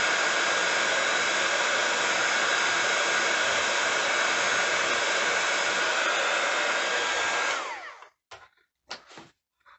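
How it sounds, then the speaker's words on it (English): A heat gun blows a loud, steady hot-air whoosh over clear embossing powder on a card sentiment, running for several seconds before cutting off, followed by a few faint clicks and handling noises. "And using our heat gun, not too close, but just going over that, and that's going to melt that clear embossing powder on top of our sentiment."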